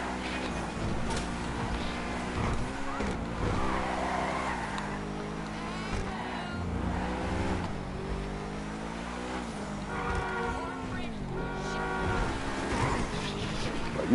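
Revving car engines during a GTA V car chase, continuous loud engine drone with rising and falling pitch as the cars accelerate and shift, with brief faint voices.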